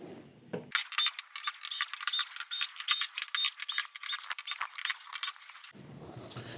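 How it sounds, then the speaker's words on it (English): Screws being removed from the back panel of an LG 55UM6910PUC television, likely with a power driver: a bright, continuous whirring with small clicks and metallic ticks for several seconds, with quiet room sound before and after. "So first thing we're going to do is get those screws out, and then we can go into our next step for removing the back."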